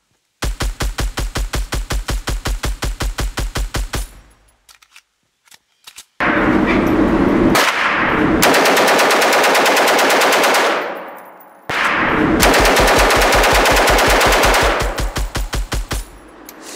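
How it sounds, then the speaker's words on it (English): A SCAR rifle fired on a real range, cracking out loud rapid-fire bursts: a long string of shots, a pause, then two more sustained bursts that ring and echo close by. "it's the SCAR."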